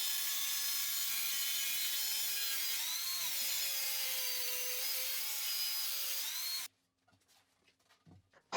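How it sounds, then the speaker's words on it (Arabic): A power saw cuts through a 24 mm plywood sheet in one continuous, loud, high whine that shifts pitch slightly as it goes, stops abruptly near the end, and is followed by a few faint knocks. "وبعدين قطعت القرصة من كونتر الطبقات 24 مللي."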